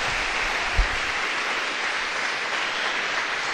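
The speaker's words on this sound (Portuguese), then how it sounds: "Dê uma salva de palmas para o Senhor." Church congregation applauding, a continuous wash of many hands clapping at a steady moderate level with a single soft thump early on and no voices over it.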